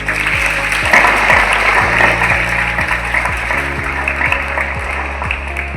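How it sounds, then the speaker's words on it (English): A school assembly honoring Class X students who scored above 90 percent breaks into loud, close, dense clapping over a faint low hum, keeping a thick, unbroken texture throughout. "So we must clap for them first of all"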